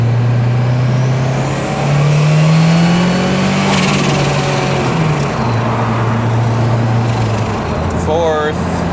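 A 1993 Ford Escort RS Cosworth engine accelerates loudly and up close, its drone climbing steadily in pitch. It dips once as a gear changes, then pulls up again.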